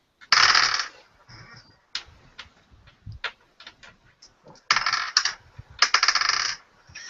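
Dice clatter onto a table during a tabletop role-playing game session, arriving as several sharp rattling bursts with short clicks and knocks in between, close and fairly loud.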